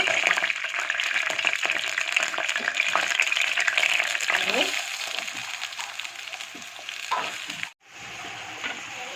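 Green chillies frying in a couple of spoons of hot oil, a loud dense close sizzle that eases off slightly over time, with occasional stirring clinks and a brief cut near the end.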